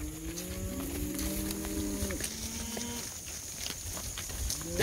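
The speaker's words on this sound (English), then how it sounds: "I love these cattle. They're so darn tame." South Pole breed cattle on a fall road drive between farms moo in several long overlapping calls, fairly close, over steady outdoor background noise with faint footsteps.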